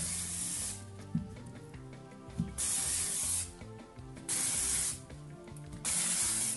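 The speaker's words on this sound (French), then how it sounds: "je vais appliquer mon spray Curly Curl Control" Curly Curl Control hair spray misted onto hair in repeated bursts, each a steady broad hiss lasting about a second, close and fairly loud. Quiet music plays underneath.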